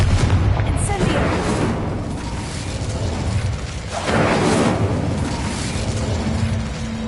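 Confringo and Incendio spell blasts from the video game Hogwarts Legacy, a run of loud booming bursts and fiery whooshes with a swell near the middle, over a continuous noisy game background.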